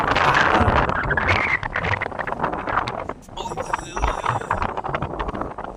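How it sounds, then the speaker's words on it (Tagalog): Strong wind buffets the microphone in loud, continuous gusts on a farm-to-market road, with voices talking underneath. "Lakas ng hangin guys."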